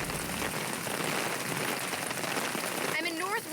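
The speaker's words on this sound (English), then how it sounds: "the rain is picking up and so is the hail" Rain and hail beat steadily on surfaces during a severe storm in northwest Wichita, a dense, loud hiss throughout, and a voice breaks in near the end.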